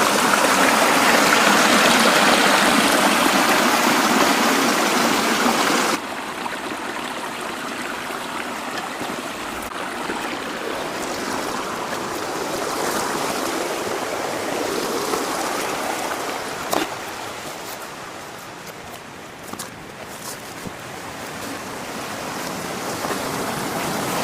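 A stream runs down a hillside, a steady broadband rush of flowing water that is loudest at first, then drops to a softer continuous trickle and babble with no talk.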